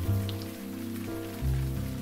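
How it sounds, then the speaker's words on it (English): Heavy rain pours steadily throughout a dramatized audio story, a dense continuous wash under a low droning hum, with no voices. "It's raining buckets."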